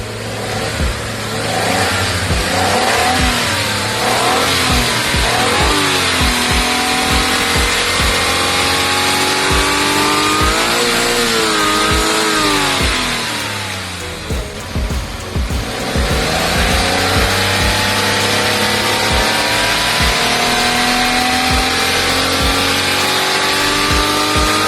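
A loud Suzuki DA17V engine runs continuously, revving up and down repeatedly with rising and falling pitch, briefly easing off before revving again.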